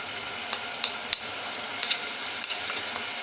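Tomatoes with chili and spices fry in a pan, sizzling quietly under scattered, sharp scrapes and clicks as a spoon stirs them.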